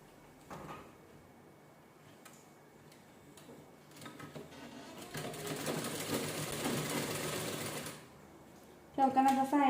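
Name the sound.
sewing machine stitching canvas strip for blouse neckline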